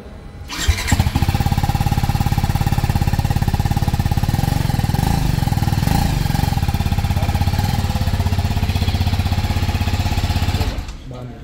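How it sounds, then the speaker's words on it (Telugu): A TVS Apache RTR 310 motorcycle idles loudly close by, its exhaust thumping in a rapid steady pulse for several seconds before cutting off. "ఒకసారి సైలెన్సర్ సౌండ్ కూడా వినండి"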